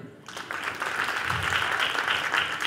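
An audience at a music show applauds a singer, a broad steady wash of clapping that swells after a brief quiet start and holds at moderate volume.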